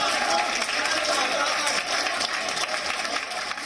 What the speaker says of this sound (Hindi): एक बार जोरदार तालियां इनके लिए बजाएं।